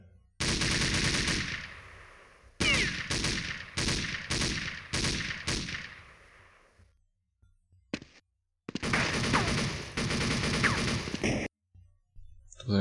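Machine gun fire in Counter-Strike with a sound plugin: loud rapid bursts, a long stream followed by a rhythmic series of short separated volleys, then pauses and another sustained burst, with no talk.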